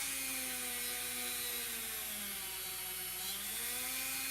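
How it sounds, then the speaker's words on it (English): A worn-out drum sander runs steadily and loudly up close, its motor holding a constant droning whine with shifting tonal hum and a dense hissy grinding texture throughout. "I think this drum sander is a bit worn out"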